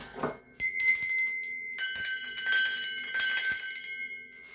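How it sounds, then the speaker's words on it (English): A bell rung to cleanse the surrounding space gives a short soft knock, then several bright strikes whose clear, ringing tones overlap and sustain close by, with no talking. "I'm going to be ringing a bell."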